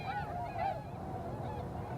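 Migrating geese honk on the Upper Mississippi National Wildlife and Fish Refuge, a few faint calls carried over a steady low outdoor background.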